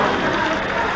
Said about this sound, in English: Oh, it's almost done raining.